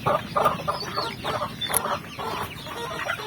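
Chickens from a flock of hundreds of farm hens cluck and chatter in overlapping bursts, with a short high call rising above a constant low bustle.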